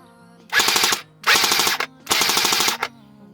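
A Cyma CM.028U airsoft electric gun fires three quick full-auto bursts at close range, each a rapid mechanical rattle lasting about half a second, separated by short pauses.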